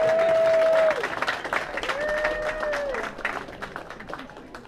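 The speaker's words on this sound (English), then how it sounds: "How about giving her a round of applause there?" Audience applause for a birthday at a surfboard builders hall of fame induction; clapping rises under drawn-out whistles and cheers, then thins and fades toward the end.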